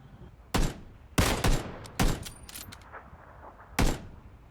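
Gunfire in PUBG during a duo match: four sharp, loud shots spaced irregularly, with quieter thuds and clatter between them and no talk.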